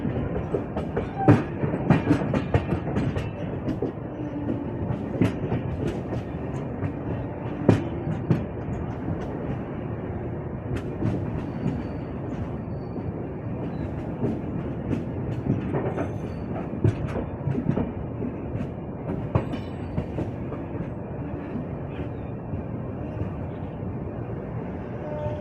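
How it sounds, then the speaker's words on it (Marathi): The Amravati SF Express passenger train runs after leaving Badnera station, heard from inside a coach as a continuous rumble with repeated clickety-clack wheel beats over rail joints, steady and fairly loud throughout without speech. "मित्रांनो आपली ट्रेन डिपार्ट झाली आहे बडनेरा स्टेशनवरून"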